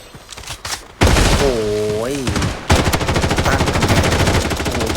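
Rapid automatic gunfire from the video game Blood Strike, loud and sustained in dense bursts across most of the stretch, with a brief rising electronic tone partway through and a quieter start before the shooting kicks in.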